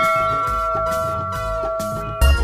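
A temple bell rings with a sustained metallic tone that repeats in a few evenly spaced strikes, each ring carrying over the last, fairly loud and close.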